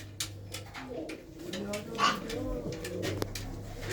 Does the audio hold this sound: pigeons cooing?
yes